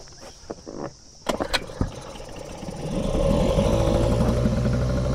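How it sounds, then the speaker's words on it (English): A small two-stroke outboard engine on a boat tender is started after a few clicks and knocks, then settles into a loud, steady buzzing run close by. "we've got the added benefit of the two-stroke with the smoke, little bit of grease and the engine noise"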